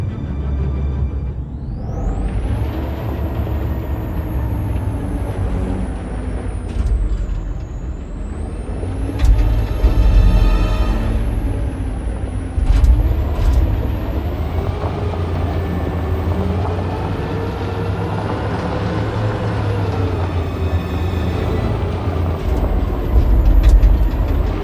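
Heavy truck engine rumbling with hissing air-brake bursts in the Detroit: Become Human video game, a steady loud low drone with sharp releases recurring throughout and no talk.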